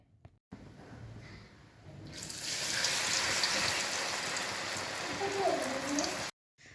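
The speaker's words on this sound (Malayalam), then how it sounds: "അപ്പോൾ അത് ചൂടായ എണ്ണയിലോട്ട് പൂളൊക്കെ ചെത്തിയത് ഇട്ട് കൊടുത്തിട്ടുണ്ട്" Thin-cut tapioca slices drop into hot oil, and a loud, steady frying hiss swells after a couple of seconds of quiet handling noise, holding up close and even until it cuts off near the end.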